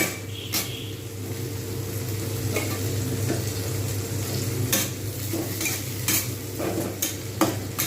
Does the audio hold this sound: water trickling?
no